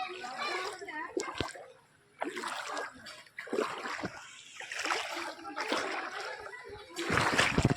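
Flood water from a cyclone splashes and sloshes around a house in repeated bursts of varying strength, with a voice talking over much of it.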